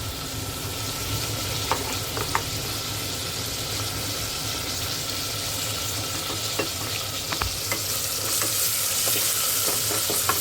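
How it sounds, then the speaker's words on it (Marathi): Ginger-garlic paste sizzles and spits in hot oil in a home kitchen while being stirred for a chicken curry, a close, continuous frying hiss broken by occasional clinks and scrapes. "तेल तापले बघा मस्तपैकी. तर आज काय स्पेशल दिवस आहे ओळखा पाहू गाईज. हे बघा, आलं लसणाची पेस्ट टाकूया आपण."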